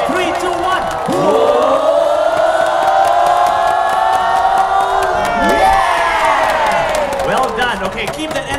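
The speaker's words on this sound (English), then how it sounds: "Let's start clapping. Let's go." A crowd cheers and claps at a National Day Parade preview as a Red Lions parachutist comes in to land. A loud, sustained roar of voices and whoops runs for several seconds, with an announcer talking over it.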